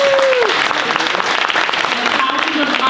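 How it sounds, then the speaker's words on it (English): Audience at a college awards night applauding campus activities staff, loud continuous clapping filling the room with a crowd murmur beneath it, while an announcer's voice carries over the top. "give them a round of applause"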